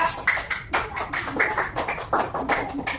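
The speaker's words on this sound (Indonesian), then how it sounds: "tepuk tangan untuk kelompoknya Tika" Classroom applause for a student group after its presentation, a scattered, uneven patter of many hands clapping at moderate loudness for about three seconds.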